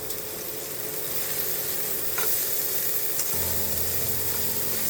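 Onion and green chillies frying in oil in a pan, a steady close sizzle with occasional stirring scrapes, continuous and fairly loud throughout.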